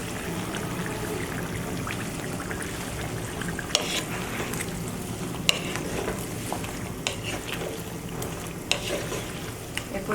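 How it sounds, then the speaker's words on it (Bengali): Chicken meat for tehari is stirred in a cooking pot, giving a continuous close sizzle of frying with scraping and clinking strokes of the spoon scattered through, and no talk. "মাংসটা একটু নেড়ে দেব"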